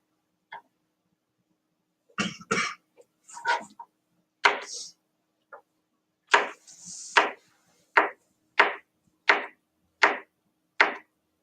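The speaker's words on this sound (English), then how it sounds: "Peeling the banana and getting it ready to cut up." Banana being peeled and cut up for a smoothie: soft scattered rustles and taps, then a regular series of about eight crisp knife chops on a board, close and isolated.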